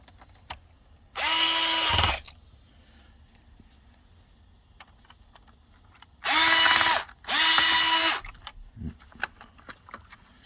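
Cordless drill or power driver running screws back into the front bumper of an iRobot Roomba S9, three close whirring bursts of about a second each with short pauses, the last two nearly back to back, and light handling clicks between them.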